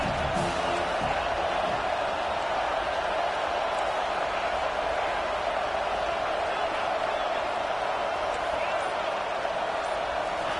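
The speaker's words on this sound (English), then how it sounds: "This crowd trying to make life miserable for this offense." Stadium crowd noise from an NCAA football video game featuring Texas A&M: a steady, dense roar of a large crowd sustained throughout, loud and continuous with no distinct breaks, a few faint thumps early on.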